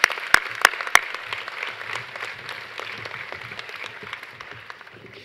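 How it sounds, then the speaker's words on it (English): An audience at a college graduation ceremony applauds the graduating students, a few sharp loud claps at first settling into steady, moderately distant clapping that slowly fades. "Let's give these fine young students a round of applause."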